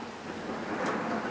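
Thunder rolling during a supercell thunderstorm, a brief distant rumble over steady rain noise, faint and without speech.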